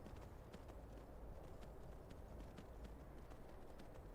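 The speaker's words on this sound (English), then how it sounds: "A horse." Horse hooves clip-clop in a steady quick rhythm in the video game Skyrim, faint and continuous with no voices over them.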